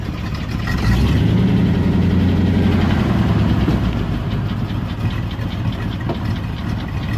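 A car engine with a rebuilt intake manifold idles steadily at a low rumble, even and continuous with no revving, close by and fairly loud throughout.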